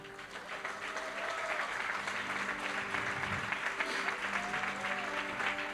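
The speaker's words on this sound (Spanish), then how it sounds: "Den un aplauso al Señor Jesús" Sustained applause from a crowd, steady and fairly loud throughout, with a few faint tonal sounds drifting over the clapping.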